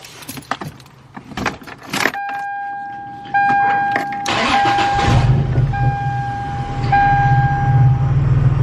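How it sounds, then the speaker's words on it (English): Keys jangle, then a Toyota Tacoma truck's engine cranks and starts, settling into a steady close idle that hums on to the end. "Let me start up the truck so you guys can kind of see the travel."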